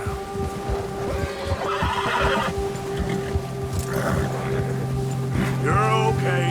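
A horse in the video game Red Dead Redemption 2 neighs and whinnies loudly up close, with hoof clops and outdoor game ambience around it.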